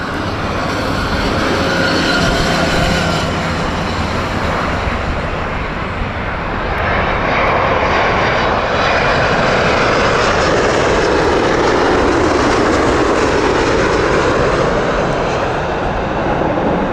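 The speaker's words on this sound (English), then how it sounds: "Virgin Atlantic Airbus A350, our first A350" Virgin Atlantic Airbus A350 engines at Heathrow, a loud, sustained broadband jet roar that swells in the middle and stays powerful to the end, with no talk.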